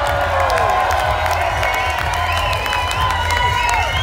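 A crowd cheers, whoops and claps at a live music tribute night, loud and continuous, with shouting voices rising over the applause.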